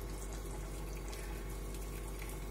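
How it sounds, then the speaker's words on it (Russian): Steady, soft trickle of boiling water poured from a kettle in a thin stream, continuous and fairly quiet with a faint splashing hiss throughout. "У меня уже закипела вода в чайнике, и я потихонечку по ложке"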